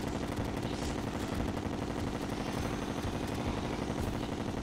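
Rapid, dense gunfire from a gun in Terraria on Expert Mode crackles continuously at a moderate level, a steady stream of fast shots with no breaks.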